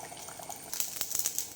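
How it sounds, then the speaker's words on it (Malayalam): Kerala theeyal curry with plantain and onion bubbling and popping steadily in a pan, close up, a soft hissing simmer with irregular bursts and no voices. "ഇപ്പോഴും നമ്മുടെ കറി ഇങ്ങനെ തിളച്ചുകൊണ്ടിരിക്കണം"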